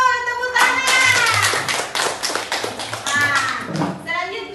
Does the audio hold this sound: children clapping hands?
yes